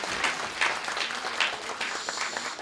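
Congregation at a church service giving warm applause to the volunteer photographers, a continuous crowd of many hands clapping at moderate loudness.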